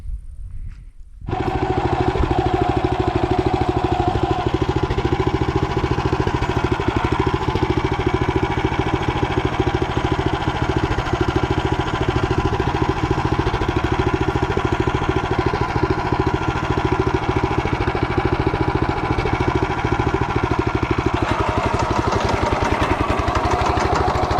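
Walk-behind tractor engine running steadily while digging garlic in a field, a loud continuous idling chug after a brief quiet start, close and unbroken, no talk.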